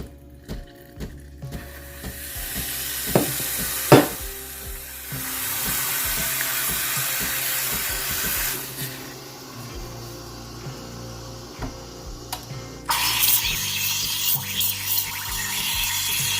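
A Breville Barista Express espresso machine warming up its 3-hole steam wand, with a hiss and water gurgle that builds and shifts, then a louder bright rush of steam near the end, close and alone.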